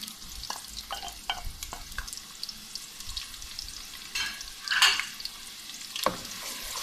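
Chopped onions fry in a pot for mutton pulao, with a soft sizzle broken by repeated stirring clatters and scrapes, then a louder scrape near the end, and no one talking.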